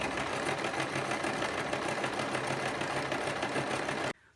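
A sewing machine runs a steady zigzag stitch over floss near the edge of the presser foot, a continuous close mechanical whir that stops abruptly just before the end.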